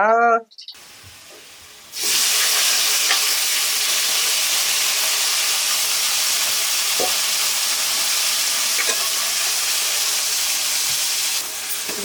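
Malenadu-style chicken palya sizzles loudly and steadily in a pan while being stirred, with occasional scrapes. A brief voice is heard just before the frying noise starts.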